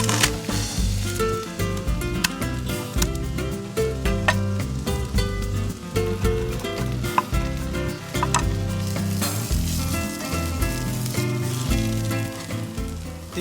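Onions frying in a pan, browning and softening, give a steady loud sizzle with crackling pops throughout, along with occasional stirring scrapes.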